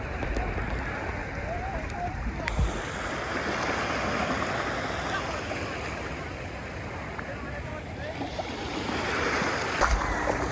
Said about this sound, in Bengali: ঢেউ এসে ছুঁয়ে যাচ্ছে পা, আবার ফিরে যাচ্ছে নিজের ছন্দে।